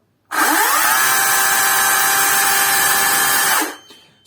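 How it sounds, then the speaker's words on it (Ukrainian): An Oleo-Mac GSi 30 cordless battery chainsaw spins up quickly to a loud, steady high-pitched whine, runs unloaded for about three seconds, then winds down as the trigger is released. "чекаємо пару секунд після натиску і слухаємо, як працює наша пила."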